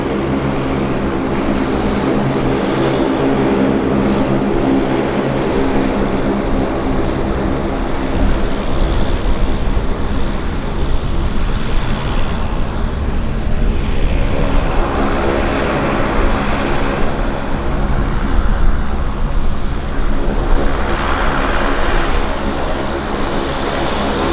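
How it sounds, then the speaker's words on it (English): A Saab 340 twin-turboprop airliner taxiing out at Vancouver International Airport. Its propeller engines give a loud, constant droning hum that holds steady for the whole stretch, with no voices over it. "Saab 340s taxiing out."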